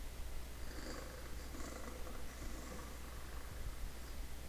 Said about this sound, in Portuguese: cat purr